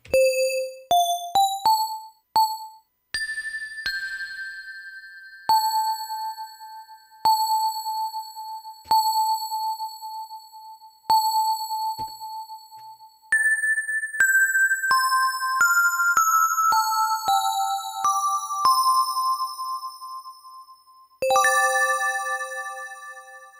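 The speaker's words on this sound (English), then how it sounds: "that's what I used to use for like bell sounds" A series of bright synthesized bell tones shaped with a strong ADSR decay, struck one after another with ringing decays, some held notes and quick rising and falling runs, no voices.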